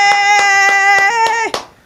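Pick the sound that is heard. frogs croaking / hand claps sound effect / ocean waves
hand claps sound effect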